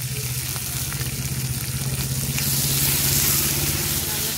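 Fried potatoes drop into a hot pan already holding boiled figs, giving a steady close sizzle that swells slightly as they go in, with a low hum running underneath.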